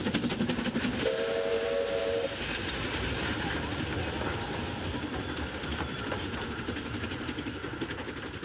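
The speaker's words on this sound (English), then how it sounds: "The little train always has right of way." A small steam train on a rural railway line in China gives a short whistle and then rolls past close by with steady rumbling and clattering wheels, growing slightly fainter toward the end.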